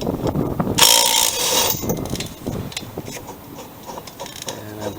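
A ratchet works the blade nut loose on a Lawn-Boy mower, giving a loud burst of rapid mechanical clicking and grinding near the start, then scattered clanks and metallic handling sounds up close.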